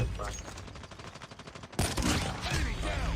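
Rapid bursts of video-game gunfire rattle through a Thai streamer's test session, a steady run of evenly spaced shots giving way to a louder, denser volley near the end, with voices mixed in.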